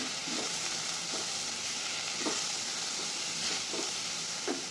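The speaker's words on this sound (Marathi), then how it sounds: "सर्व मसाला परतून घ्यायचा." Spice masala with chili powder and a pinch of asafoetida sautés in a pan for dhaba-style rajma, giving a steady close sizzle broken by soft periodic stirring scrapes, with no talking.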